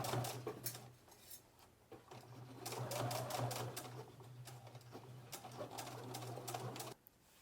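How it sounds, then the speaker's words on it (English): A sewing machine stitches around a pleated fabric face mask, its faint, steady motor hum carrying rapid needle clatter in uneven runs, with a light clink of other objects nearby and no speech. "Sew around the entire mask and trim the edges."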